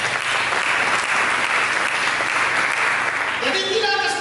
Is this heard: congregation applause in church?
yes